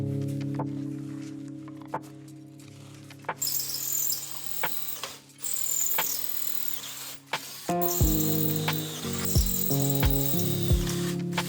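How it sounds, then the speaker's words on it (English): A power drill runs steadily with a droning whine, drilling holes through metal brackets, its pitch shifting as it bites, with a louder grinding stretch in the second half. "drill 4 holes in the seat, drill through those brackets we just made"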